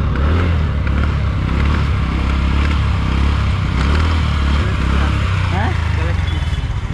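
A TVS Ntorq scooter's engine revs and drones steadily close by for several seconds, with a rising whine near the end; it is reported to have clutch and roller trouble.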